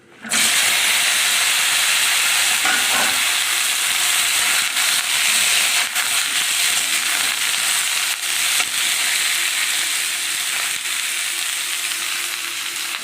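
Green chilli and ridge gourd hit hot oil and sizzle loudly and steadily up close, a dense continuous hiss with faint crackles throughout and no voices.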